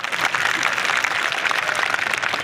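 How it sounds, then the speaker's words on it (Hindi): A crowd at a political rally claps, a dense continuous wash of applause at steady loudness for a couple of seconds with no clear voices above it. "ताली बजानी पड़ेगी भाई साहब।"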